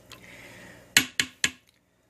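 Utensil stirring pasta with margarine in a pressure cooker, three quick, sharp metallic knocks against the pot in a row after a soft scrape, close and clear.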